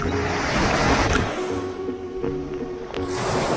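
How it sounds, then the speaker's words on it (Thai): Waves wash and roll onto a shore on Ko Chang island, Thailand, in a broad, continuous surge, with wind noise buffeting the microphone. "ฟังเสียงคลื่นกันดีกว่า"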